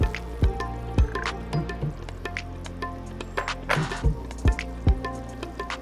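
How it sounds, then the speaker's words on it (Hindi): Crushed jaggery stirred into roasted pearl millet in a pan: sticky, squishing spoon strokes with soft clicks and taps at an uneven rhythm, close and moderately loud, over a light background hiss, with no speech. "यहाँ पे बाजरा भुन चुका है, अब इसमें हम गुड़ मिलाएंगे"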